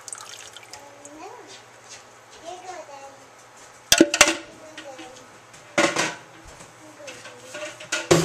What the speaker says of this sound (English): I'll cut out a lot of this loud stirring